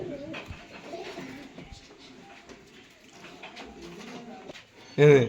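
Restless pigeons held in a loft, soft cooing and flutters close by under steady talk, ending with a sudden louder burst of noise.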